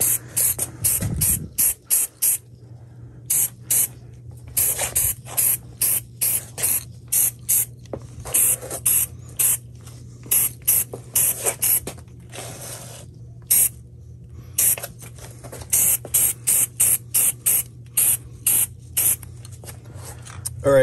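Flat black Rust-Oleum high performance spray paint is applied to a 2018 Silverado 1500 front bumper in many short, loud hissing bursts with brief pauses between, over a faint steady low hum.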